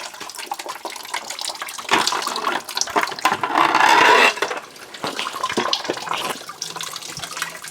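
Water draining out of a water softener tank during a resin replacement, heard as an irregular splashing, gurgling flow with a louder rushing surge partway through, close to the microphone and without talk.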